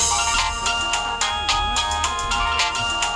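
A mobile phone ringtone plays loudly and alone, a bright repeating electronic melody with a steady rhythmic pulse throughout.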